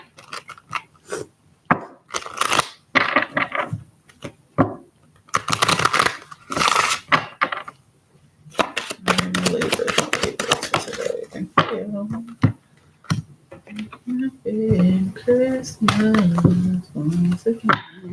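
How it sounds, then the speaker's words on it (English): Tarot cards being shuffled at close range in irregular bursts of riffling, slapping and rubbing, broken by short pauses, with a person speaking in between during the second half. "Let's try this shuffle again."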